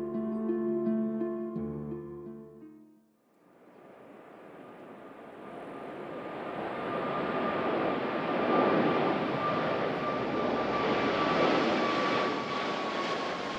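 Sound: airplanes taking off and landing at Narita International Airport

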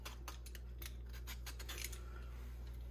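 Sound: vegetable peeler peeling rind off a lemon

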